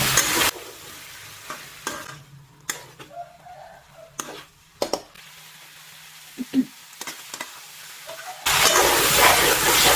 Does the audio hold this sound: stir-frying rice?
yes